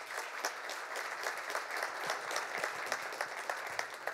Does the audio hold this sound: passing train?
no